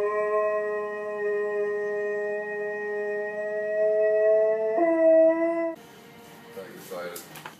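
A dog howls in long sustained tones that shift pitch partway through, close and clear, followed by brief rustling and movement noises.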